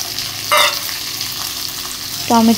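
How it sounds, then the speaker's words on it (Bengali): Onions frying in a pan until light brown for a mustard fish curry, a steady soft sizzle punctuated by two louder scraping stirs of the spatula. "এবার পেঁয়াজটা ভালো করে ভেজে নেব হালকা বাদামি কালার করে।"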